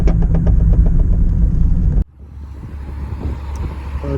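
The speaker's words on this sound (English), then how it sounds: "I think I found the noise. It's the windscreen rubber." A VW Corrado at about 30 mph with a loose windscreen rubber produces loud rushing, fluttering wind noise inside the cabin that cuts off suddenly, leaving a quieter engine and road rumble.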